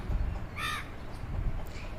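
Crows caw in a village garden with neem and crossandra plants, a single clear caw followed by a fainter call, moderately distant over a low outdoor rumble.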